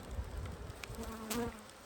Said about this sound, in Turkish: Çünkü o yavrulu peteğimizin üzerinde bakıcılı arılar var.